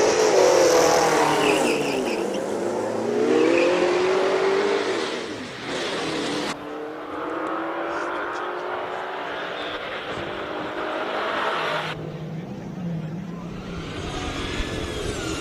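A V8 rear-wheel-drive hillclimb race car with a lightweight composite body accelerates hard off the start line at the Cape Town Speed Classic, its engine note climbing and surging loudly through gear changes before fading back.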